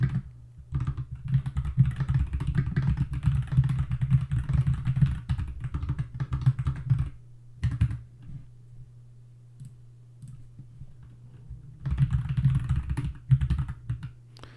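Fast typing on a computer keyboard, dense bursts of key clicks close to the microphone, broken by short pauses and a longer quiet stretch before a final flurry.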